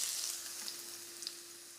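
Ginger hitting a couple of tablespoons of hot oil in a wok, a soft continuous sizzle with a few faint crackles, quiet and steady.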